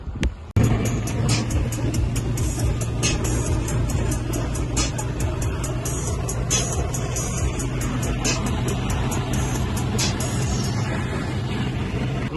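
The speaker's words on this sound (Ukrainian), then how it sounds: "я можу вставити відео, як ця машина їде, як вона себе веде на трасі" Car driving on a highway, giving a steady, continuous road and engine rumble that stays even and fairly loud for about twelve seconds, heard from inside or close by, with no talk.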